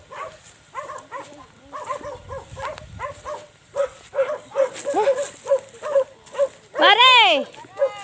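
Several dogs bark in quick, repeated bursts at a rural farmhouse, close and growing louder toward the end, with people talking over them.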